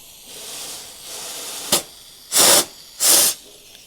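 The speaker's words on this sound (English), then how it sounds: "I disconnect the brake line here and blow air through in both directions" Compressed air is blown through a disconnected brake line on a 1954 Ford F600 car hauler, giving one short hiss followed by two longer, loud bursts of rushing air close by.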